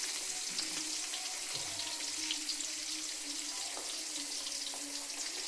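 Chopped onion frying in a pan for tomato chutney makes a soft, steady, hissing sizzle at a fairly low level, continuous and even, with no talking.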